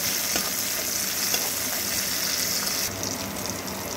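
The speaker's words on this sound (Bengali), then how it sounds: "পেঁয়াজ রসুনটাকে একটু লাল করে আগে ভেজে নেব।" Chopped onion and garlic frying in oil, a loud close sizzle with stirring scrapes, steady throughout and slightly softening near the end.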